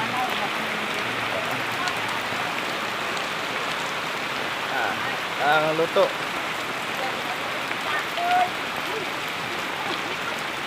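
Steady rain pours down in a continuous hiss, with a person speaking briefly partway through.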